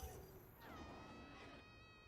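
A Palico cat in Monster Hunter Wilds gives a soft, short meow that rises and falls, faint against quiet game background sound.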